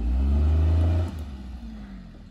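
A Maruti Alto's engine revs hard as it climbs a risky uphill track, a loud low strained roar that drops off after about a second into a quieter idle.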